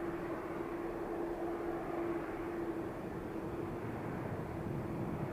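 A Boeing 777 airliner at Manchester Airport producing a steady, distant engine roar with a faint sustained hum, even in loudness throughout and without speech.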